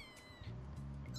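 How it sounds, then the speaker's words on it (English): A pet cat meows in the No More Heroes video game, a short close whining mew followed by a longer, lower drawn-out yowl, fairly quiet. "Gotta play with our cat."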